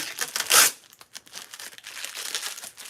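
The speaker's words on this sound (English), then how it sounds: "there's a plastic film on here. I'm just peeling it off" Thin plastic film being peeled off a glossy wooden piece, a sharp crinkling tear up close followed by softer intermittent crackles as the sheet comes away.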